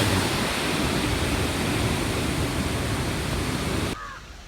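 Devil's Fall waterfall in Pokhara, Nepal, roars as a loud, steady wall of rushing water close by, then drops abruptly to a quieter, distant hiss near the end, with no talk.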